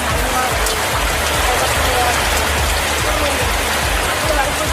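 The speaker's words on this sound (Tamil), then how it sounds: "நாகை மாவட்டத்தின் பல்வேறு பகுதிகளில் கனமழை பெய்தது" Heavy rain pours steadily and loudly across the Nagapattinam district of Tamil Nadu, a dense unbroken hiss of drops on surfaces with no pauses.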